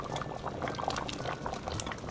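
A pot of curry chicken with potatoes boiling hard on high heat, steady close bubbling and popping of liquid throughout, with no talking.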